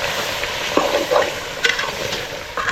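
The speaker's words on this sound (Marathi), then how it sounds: "चिकन आपल्याला असं हे चांगलं मिक्स करून घ्यायचं मसाला वगैरे." Chicken coated in masala is stirred in a hot pan, with a steady sizzle and several distinct scraping strokes of the spoon, close and clear, with no talking.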